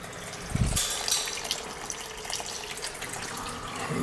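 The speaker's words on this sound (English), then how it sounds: "We'll get a little water coming out." Water runs from the tank of an old boiler with a crusty relief valve, a close, steady splashing flow after a brief knock near the start, with no voices.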